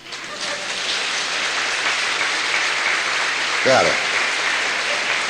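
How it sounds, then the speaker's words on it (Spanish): A church congregation applauds steadily throughout, a dense sustained clapping wash at even loudness, with a voice speaking briefly over it. "Pueden aplaudir si quieren"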